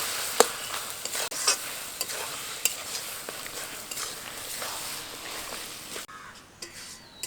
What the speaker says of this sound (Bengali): মাছের মাথা দিয়ে শাকের সাথে খুব ভালোভাবে মিশিয়ে নেব।